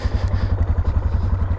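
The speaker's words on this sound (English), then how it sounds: "you fire right up. Good old DR 650" A Suzuki DR 650 motorcycle engine fires up and settles into a loud, close, rhythmic thumping idle with a slight mechanical clatter.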